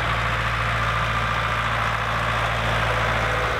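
A tractor fitted with a front loader, used for snow plowing, idles steadily with a low continuous engine rumble and vibration, close and constant throughout with no talking.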